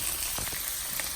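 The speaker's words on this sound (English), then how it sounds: "I'll fry it as long as possible till it starts to get signs like this that it's cooking" Egg roll filling fries in a pan with a steady, close crackling sizzle, scattered small pops rising over the continuous hiss.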